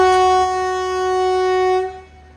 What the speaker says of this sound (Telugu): బయలుదేరిపోయింది ట్రైన్.